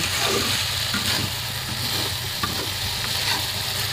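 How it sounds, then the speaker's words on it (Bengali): Eggplant, potato and dried fish frying in a pan while being stirred: a steady loud sizzle with scraping spatula strokes throughout, no voices. "একটু নাড়াচাড়া করতেছি।"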